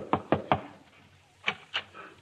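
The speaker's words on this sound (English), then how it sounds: "He just hung up his hat when there was a knock at the door." A knock at a house door: three sharp, evenly spaced raps, a short pause, then two more, close and fairly loud with no talk over them.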